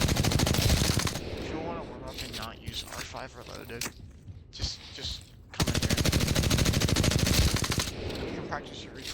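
Automatic weapon fire in the Apex Legends firing range, sustained bursts of rapid shots in two long stretches, loud and close, with someone talking between and over the bursts.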